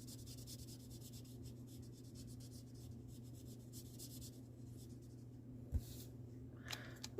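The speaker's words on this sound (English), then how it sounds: "Or you could color it in with the bigger brush end." Brush-tip marker coloring on card paper, a soft steady scratchy rubbing that continues quietly throughout, with a couple of small taps near the end.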